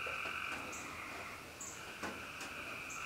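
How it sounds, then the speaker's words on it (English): Frogs croak repeatedly in a steady, pulsing night chorus, faint and somewhat distant, with a few brighter chirps cutting through. "Frogs aren't too loud tonight."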